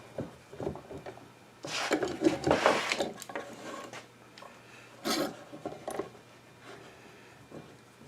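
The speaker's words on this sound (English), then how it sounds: "I'm going to move this clamp from where it is now to there and pull that together" A woodworking clamp being shifted and tightened on a cherry spice box, giving a quiet cluster of scrapes, knocks and creaks that peaks in the middle, with a few isolated taps afterward over low room hum.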